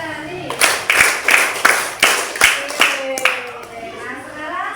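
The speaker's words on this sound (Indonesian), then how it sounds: "tepuk 5 jari" A group of people clap in unison using all five fingers in a classroom-style exercise, about ten sharp, rhythmic claps at a steady beat, close and loud, with voices chanting along.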